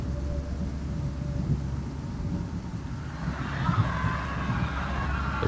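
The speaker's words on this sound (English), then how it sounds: "a violent storm raged through the region as churchgoers gathered for evening prayer" A thunderstorm sound effect: steady heavy rain hiss over a low rumbling roll of thunder that swells slightly toward the end, continuous and moderately loud with no voices.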